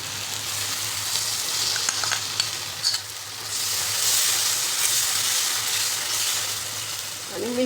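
Cornflour slurry poured into sizzling soya chilli and stirred on full flame makes a loud, close hiss and sizzle. Scraping stir noises rise and fall, and a steamy burst swells halfway through.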